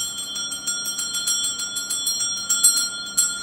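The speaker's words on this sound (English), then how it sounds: "Follow the vibration of this bell." A hand bell rung inside a reputedly haunted Welsh inn, the Skirrid Mountain Inn, struck repeatedly in quick irregular strokes, bright ringing tones overlapping close by with no talking.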